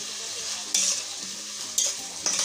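Onion paste and spices frying in a pan, a soft steady sizzle broken by a few sharp bursts as the mixture is stirred and scraped, close and alone without talk.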